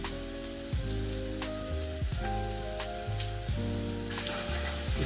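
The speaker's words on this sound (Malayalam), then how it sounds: "ചൂടായ ചട്ടിയിലേക്ക് തരുന്ന ഇഞ്ചി വെളുത്തുള്ളി പേസ്റ്റ്" Ginger garlic paste hitting hot oil in a heated pan, a loud close continuous sizzle with occasional stirring scrapes and no voices.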